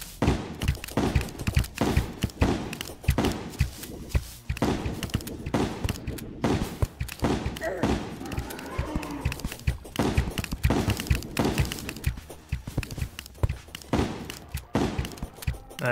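Repeated shotgun blasts in Terraria hammer away at the boss Skeletron, loud, close, and steady across the whole span, with game impacts and thuds mixed among the shots.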